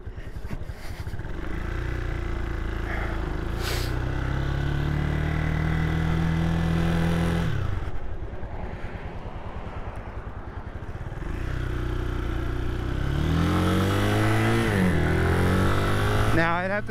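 A CSC SG250 motorcycle engine revs up and down through gears during a ride, with rising and falling tones and steady wind and road noise, loud and close throughout.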